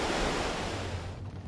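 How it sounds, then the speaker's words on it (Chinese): A flood-swollen mountain river in Taiwan churns with muddy water, a loud, dense, continuous roar of rushing flow with wind buffeting, close and without voices. "内湾尤罗溪溪水暴涨，黄澄澄泥水仿如万马奔腾，"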